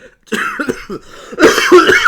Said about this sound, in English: This card is so good, it's making me literally cough myself.